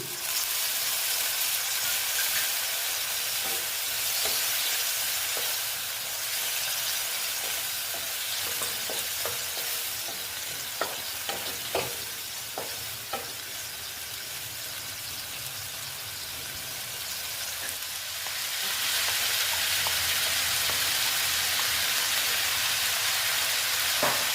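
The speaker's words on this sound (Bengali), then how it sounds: "মোটামুটি মশলাটা ভাজা হয়ে গেছে এখন না একটু আমি জল দিয়ে দিচ্ছি একটু" Masala of spices frying in a pan for a vegetarian banana-flower dish, sizzling steadily with stirring clatter, then a louder hissing burst of steam as water is poured in near the end.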